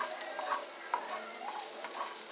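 Shrimp hit a hot pan and sizzle with a steady, close hiss, broken by a few soft scrapes and clicks, and no talking.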